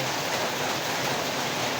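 Heavy typhoon rain falls without pause, a thick, even roar of water hitting surfaces, close and loud, with no voices over it.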